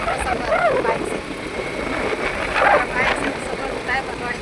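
A motorbike engine drones steadily while riding along a mountain route toward Gangotri, with wind buffeting the microphone, and a person talks over it.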